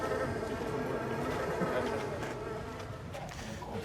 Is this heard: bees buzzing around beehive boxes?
yes